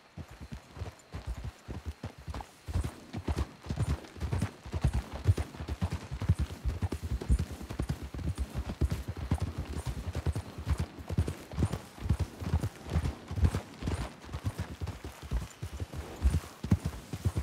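Horse hooves gallop steadily in Red Dead Redemption 2, a dense, rapid clip-clop rhythm that holds loud and close for the whole stretch with no talk over it.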